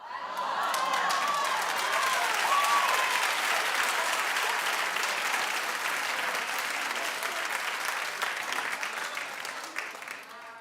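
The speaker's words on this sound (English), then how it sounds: "Why are you clapping?" A studio audience at a talk show breaks into loud, sustained applause that fills the room for about ten seconds before starting to thin out near the end.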